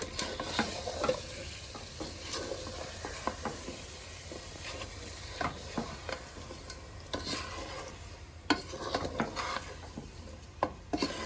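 Papaya pickle being stirred in a pan with tamarind pulp and sugar, a steady scraping stir over a soft sizzle, with repeated utensil scrapes and taps, close and alone.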